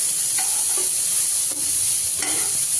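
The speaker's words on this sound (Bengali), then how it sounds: "তো আমি বেগুনটা ভেজে নেবো সুন্দর করে" Eggplant frying in a pan for a rainy-day lunch, a steady close sizzle with a few brief stirring clinks and scrapes, no voices.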